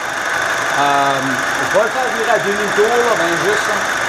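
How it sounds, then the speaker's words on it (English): An Audi A4 Quattro 2.0L FSI engine idles with a steady low hum, not yet at operating temperature, while someone talks over it. "the car is at idle"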